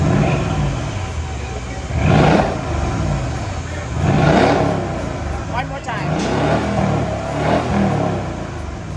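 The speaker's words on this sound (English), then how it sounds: "some before clips of how the exhaust sound before I install the Black Widow" A Mercedes ML63 AMG's stock exhaust revs repeatedly, four deep surging roars rising and falling at a steady pace, with someone speaking briefly between them.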